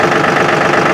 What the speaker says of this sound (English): I'm gonna start the tractor and see if she stays there.